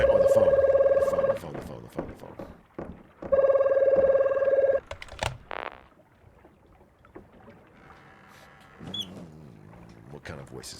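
In a video game, a telephone rings in two loud electronic bursts a couple of seconds apart, followed by game sounds and a voice talking.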